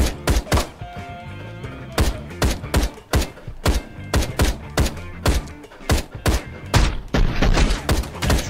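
Gunfire in the video game Ride to Hell: Retribution comes as a rapid string of sharp, punchy single shots at an irregular rhythm, loud and close, with a brief denser burst near the end.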